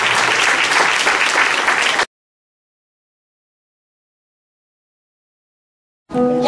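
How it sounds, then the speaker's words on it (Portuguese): Audience applause at a Brazilian variety show, a loud dense burst of clapping for about two seconds, then silence, then another loud burst starting near the end. "Aplausos para Maria e para Fátima Ribeiro."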